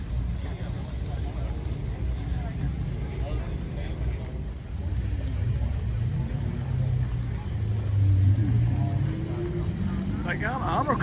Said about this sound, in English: I hear cars out there on the track